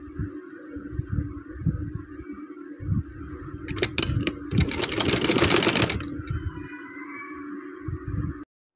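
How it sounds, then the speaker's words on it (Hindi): A sewing machine stitching a sharara garment, a steady rhythmic mechanical whir with a louder fast burst in the middle before slowing and stopping, heard alone and close. "ये देखिए जो मैं आपको दिखा रही थी कि मैंने शरारा सिलाई कर रही हूँ"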